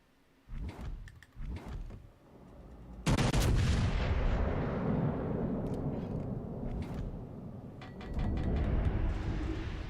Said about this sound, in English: Oh, he started shooting.